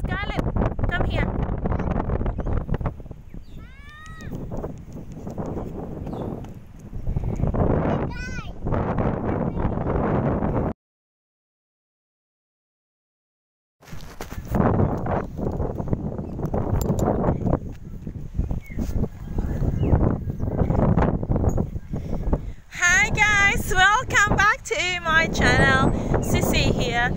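Gusty wind buffets the microphone in rough, uneven bursts near a big bridge in Australia, with people talking and calling out over it and a short silent gap midway.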